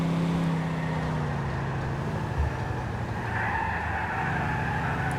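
A badly handling car skids and drives in Grand Theft Auto 4, with a loud engine drone under a long, continuous tire screech that shifts pitch as the car slides.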